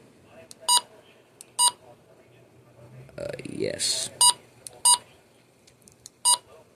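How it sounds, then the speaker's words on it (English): A handheld Midland HH-54 weather radio gives a series of short, sharp electronic beeps at irregular intervals, close and clear, while a person speaks in the middle. "We're gonna make the beeps go ahead and shut up."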